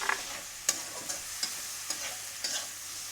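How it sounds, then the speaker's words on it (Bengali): Onions and tomatoes fry with spices, panch phoron and bay leaf in a pan under a steady sizzle, punctuated by regular scraping stirs roughly every half second, with no voices. "পেঁয়াজ আর টমেটো ভাজার পরে মশলা দিয়ে দিলাম।"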